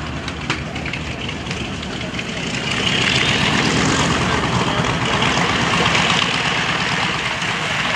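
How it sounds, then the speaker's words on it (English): Boeing B-29 Superfortress piston engines running at a World War II Weekend demonstration, a dense, loud propeller roar that swells after a few seconds and holds steady. "What a beautiful B-29 it is."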